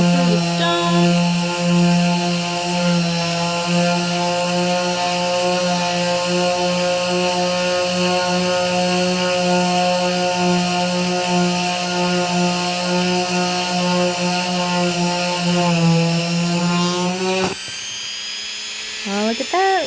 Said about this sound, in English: making sure you're doing the rotating so that will clear the debris so that it can continue to drill through the stone.